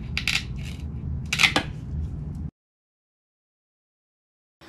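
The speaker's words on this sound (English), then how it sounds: "You're going to need a pair of tin snips. I'm going to cut this to fit in the inside." Tin snips bite through a metal gripper strip with a few crunching, metallic snips over about two seconds, close and loud, followed by silence.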